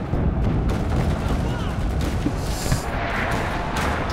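Heavy cannon and artillery-style booms in the World War II shooter Enlisted, on a Berlin map near a train carrying guns, a dense continuous rumble of battle fire with no clear gaps.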